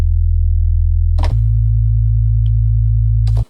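The default Sytrus synthesizer sine wave holds a steady low tone, steps to a slightly different pitch partway through, with brief clicks at the change, then cuts off cleanly; loud and alone.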